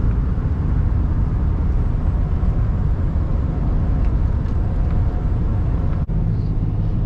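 A car drives along rural side roads between potato fields, a loud, steady engine and road rumble heard from inside the vehicle throughout, with one brief dip near the end and no talking.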